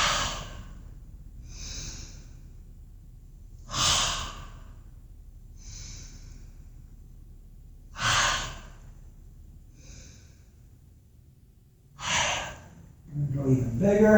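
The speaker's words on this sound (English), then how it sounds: "as we exhale, there's a huge ha" Loud, breathy 'ha' exhales repeat every few seconds during a cat-themed yoga class, each one a forceful, open-mouthed push of air with quieter breaths in between and some talking near the end.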